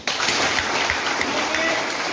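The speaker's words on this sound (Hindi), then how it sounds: "तालियां प्लीज।" A seated audience at a Modicare business gathering claps in a steady, even wash of applause that starts abruptly and continues at moderate loudness for about two seconds.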